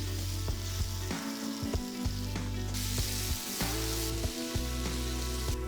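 Chopped ivy gourd, tamarind, tomato, rock salt and turmeric sizzle steadily as they are sautéed together in a pan, with occasional light clinks of stirring over the continuous frying hiss.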